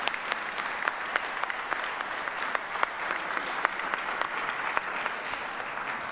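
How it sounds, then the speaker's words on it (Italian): An indoor audience at the BIT travel fair in Milan claps to welcome minister Garavaglia, steady moderately loud applause of many hands lasting throughout, with no cheering. "vorrei un bel applauso e accogliamo il ministro Garavaglia con noi"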